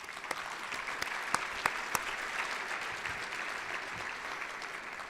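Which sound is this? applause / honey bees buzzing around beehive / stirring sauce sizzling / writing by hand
applause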